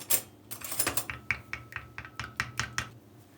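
Fork stirring a homemade hand-care mixture in a bowl after a spoonful of olive oil is added, a quick run of light clinking taps against the bowl's side, close and fairly quiet.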